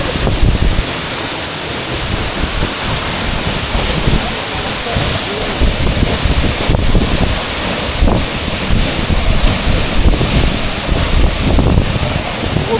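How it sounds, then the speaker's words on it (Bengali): A waterfall in Sajek Valley roars as a steady, dense wash of falling water with wind buffeting the microphone, loud and continuous throughout with no break. "এটাই হচ্ছে সাজেকের কাঙ্ক্ষিত সেই ঝর্ণা।"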